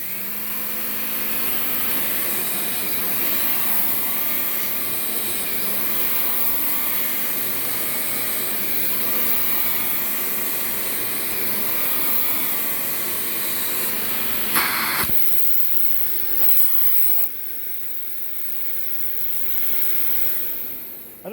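A Dyson DC39 vacuum cleaner runs with a loud, steady whine and airflow rush, then its sound shifts abruptly near the end as a valve or switch changes the airflow, with no voices.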